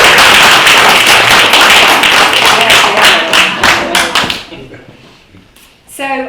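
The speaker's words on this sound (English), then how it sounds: "Round of applause." A literary festival audience applauds Diane, a burst of claps that fades out after about four seconds, followed by a short voice.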